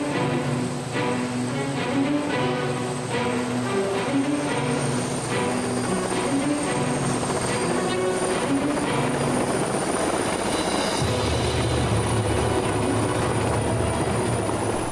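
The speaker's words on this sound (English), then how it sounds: "giving LA's leader in luxury real estate, Ben Bacal, a helicopter tour of what San Diego has to offer in the luxury real estate market from the sky" A tour helicopter flies over San Diego with a loud, continuous rotor thump and turbine whine that stays close and steady. The engine tone shifts partway through, and no one talks.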